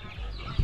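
Farm chickens cluck in a brief, soft burst, with a single low cluck standing out near the end against quiet background noise.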